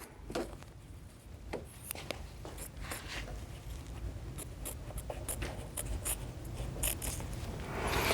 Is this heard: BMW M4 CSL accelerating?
no